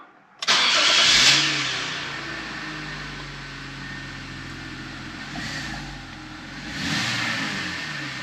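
A BMW E83 engine hums steadily while driving, with a low rumbling drone that swells briefly as it accelerates; no voices.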